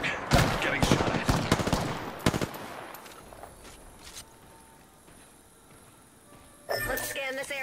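Rapid video game gunfire crackles in dense bursts, loud at first and then thinning out, with a fresh burst near the end and a voice speaking over it.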